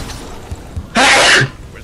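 A single loud, sharp sneeze bursts out close to the microphone, a short explosive blast after a moment of quiet room noise.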